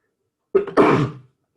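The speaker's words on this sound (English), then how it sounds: "when I'm still sneezing just like I would be in class" A single close sneeze bursts out after silence, a short sharp intake followed by a forceful, breathy release, then quiet.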